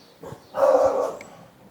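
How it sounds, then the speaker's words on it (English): A dog at a front gate gives a short yelp and then a longer drawn-out bark or howl, moderately loud and fairly close, with no other sound around it. "our dog is apparently talking to somebody at the front gate"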